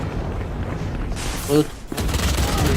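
Valorant gunfire spraying through smoke, a dense burst of rapid shots with a louder crack in the middle, set under an excited esports caster's voice and game noise.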